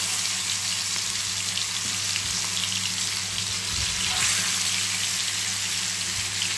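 Chicken pieces frying in a pan over a high flame for a restaurant-style chicken chaap, a loud continuous sizzle and crackle with a low background hum and no talking.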